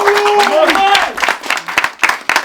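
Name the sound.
football team giving themselves a round of applause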